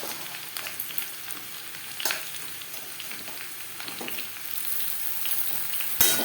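Potatoes sizzle and fry in a pan for a vegetarian aloo potol dish, with a steady crackling hiss broken by several sharp scrapes and clatters as the pieces are stirred, close and clear with no talking.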